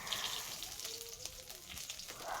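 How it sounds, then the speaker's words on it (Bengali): A fish fries in a pan, making a faint, even sizzle with a soft crackle that runs through the short moment. "এদিকে দেখো মাছটা ভাজা হয়ে গেছে প্রায়"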